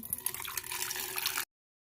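Water pours into a bowl for washing star fruit and green chilli, a continuous close splashing stream that stops abruptly partway through.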